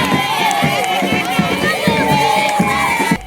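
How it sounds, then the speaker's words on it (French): A large crowd of faithful at a religious sanctuary joyfully welcomes the bishop of Butembo-Beni, a loud, dense mass of cheering, shouting and excited voices that continues throughout. "Aussitôt arrivé sur place, Monseigneur Sikuli Paluku Melkisedek a été accueilli avec joie par une foule de fidèles"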